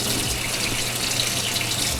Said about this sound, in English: splash some water on both sides.